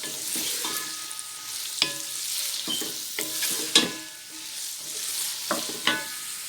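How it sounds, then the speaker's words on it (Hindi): Carrots frying in a pan for Afghani Kabuli pulao: a steady close sizzle with repeated scraping knocks from stirring every second or so, and no voices. "अब कैरेट को हमने 1 बाउल कैरेट हमने फ्राई कर लेना।"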